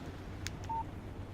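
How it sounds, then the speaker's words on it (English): A short electronic text message alert chimes on a phone in the Alan Wake video game, a brief bright tone against a low steady background hum. "Text message from Barry."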